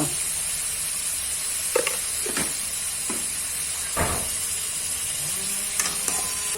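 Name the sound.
prawns frying with turmeric and salt in pan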